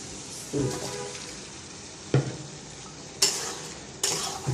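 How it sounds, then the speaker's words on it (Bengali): Hilsa fish pieces going into a pan of spice paste frying in oil, giving a steady low sizzle broken by a few loud clanks and scrapes of a spatula or spoon against the pot, close and without talk. "ভালো করে মশলাটা ভালো করে কষানো হয়ে গেছে, এখন মাছ দিয়ে দেবে"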